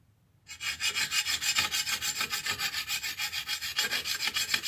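A blade stroked back and forth across a 400 grit sharpening stone, a close, loud rhythmic scraping of about twenty even strokes in quick succession, with no talking.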